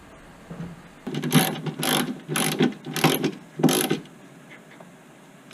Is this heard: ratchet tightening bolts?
yes